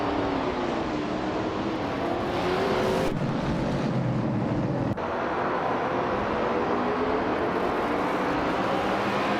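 Race cars in a video game, including a 1966 McLaren Elva Ford, roar off the start at Highlands Motorsport Park short track, engines droning steadily with rising pitch sweeps and a sharp shift in tone midway, loud and continuous.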